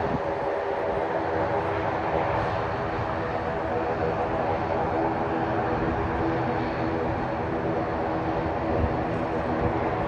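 Steady jet engine roar from aircraft at Auckland Airport, including a Boeing 787, a constant broad rumble heard from the terminal area at moderate distance.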